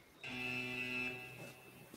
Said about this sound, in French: Vous entendez une alarme qui commence à s'élever